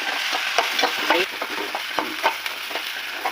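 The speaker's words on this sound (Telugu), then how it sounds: "ఉల్లిపాయ కొంచెం వేగింది కదా" Onions with ginger and garlic fry in oil while a spoon stirs them, close rhythmic scraping and clacking strokes over a bright continuous sizzle, no one speaking.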